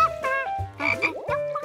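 A cartoon frog croaks during a bubbly bath, a series of loud, close, stuttering croaks with short gaps between them and no talking.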